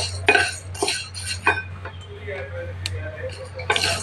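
A spoon stirs rice as it dry-roasts in a pan for kheer, making repeated close scraping and clinking strokes in an irregular rhythm over a steady low hum.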